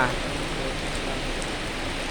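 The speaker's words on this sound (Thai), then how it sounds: "ดูสายฝนดูฝนตกข้ามกลางฝนตกนะครับ" Heavy rain pours down steadily during a storm at a petrol station, a dense, even hiss with no breaks, fairly close.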